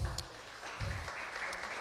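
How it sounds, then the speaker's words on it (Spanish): Applause from a church congregation welcoming a speaker, a continuous wash of clapping at moderate distance with some voices mixed in. "recibámosla con un fortísimo aplauso"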